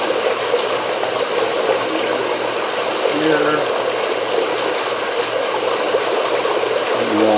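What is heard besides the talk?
running water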